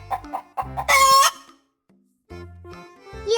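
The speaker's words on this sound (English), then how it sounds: "It's a chicken." A chicken clucks in a few short bursts, then gives a loud, strained crow-like call before quieter clucking resumes, close to the microphone with no talking.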